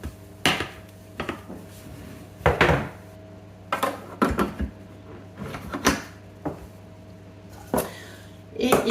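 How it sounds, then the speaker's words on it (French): A spatula scrapes and knocks against a Thermomix bowl while beaten egg whites are mixed, giving scattered clinks and thumps at irregular intervals with a person talking throughout. "Je vais commencer à les mélanger un petit peu avec la spatule"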